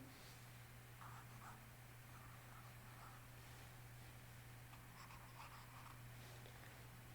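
Steady scrubbing of an eraser wiping writing off a classroom board during a math lecture, continuous and close, with a low electrical hum underneath and no talk.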